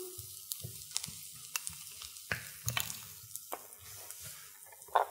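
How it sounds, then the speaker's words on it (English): Ingredients for lasagna sautéing in a pan, with a soft sizzle and irregular stirring scrapes and clicks. The sound is close, quiet and uneven, with no voices. "And we let that saute for a while."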